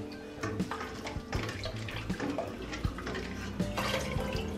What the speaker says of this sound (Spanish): Yo lo meto así para que la misma agua esté lavando el chile.